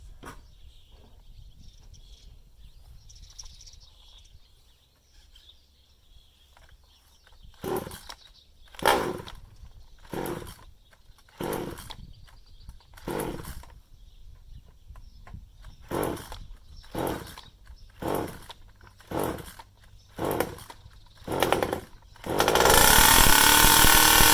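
A small 36cc two-stroke engine on a 1/5-scale King Motors Roven Baja RC car is pull-started again and again, each sharp tug rasping in a quick burst, until it finally catches and roars loudly at the end.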